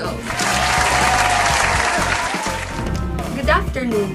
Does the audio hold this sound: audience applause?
yes